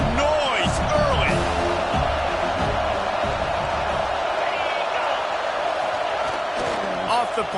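Stadium crowd at a college football game between Georgia and USC, a loud, steady roar with scattered whoops and cheers running throughout, with a commentator's voice talking over it.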